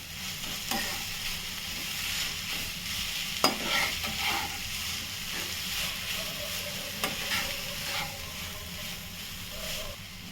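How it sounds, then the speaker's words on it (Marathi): A spice mixture being stirred and dry-roasted in a pan, with repeated scraping and knocking strokes of a spoon over a soft, steady sizzle, close and moderately loud. "त्याला कसं भाजून घ्यायचं. आता हे पण मिक्स करूया"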